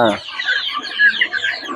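Giriraja chickens cluck close by in a short burst of busy, overlapping calls.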